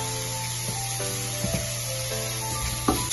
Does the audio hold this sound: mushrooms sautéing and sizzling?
yes